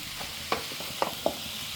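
Rice and vegetables being stirred together in a pan for fried rice, a continuous low sizzle broken by a few sharp utensil scrapes and clinks, close and without voices.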